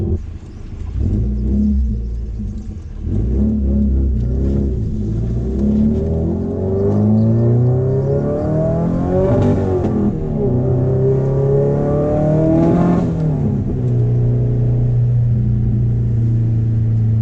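A Subaru WRX STI engine revs loudly and continuously while driving, rising in pitch through the gears with several drops at shifts around 3,500 to 4,000 rpm, rumbling close and steady without any talk.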